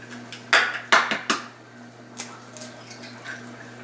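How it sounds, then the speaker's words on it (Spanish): Eggs are cracked and dropped into a bowl, making a few sharp clinks and taps close by, followed by softer wet sounds and faint knocks against a constant background hum. "Bueno, pues ahora vamos a poner los huevos en un recipiente"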